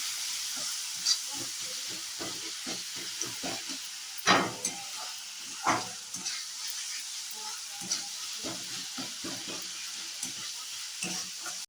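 Chhena frying in a pan with chicken masala, a soft steady sizzle and hiss broken by scattered crackles and spatters and a few louder pops, close and fairly quiet.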